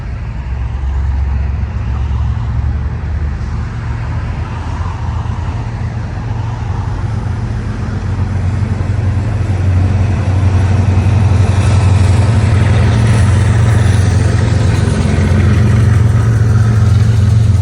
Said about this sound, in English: this freshly crewed intermodal is moving along at a brisk pace as it accelerates past the North Greenville signals and out of the yard